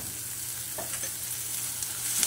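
Gram flour mixture roasting in a pan for methi pithla, a soft steady sizzle with a few light scrapes of stirring, close and continuous, no voices.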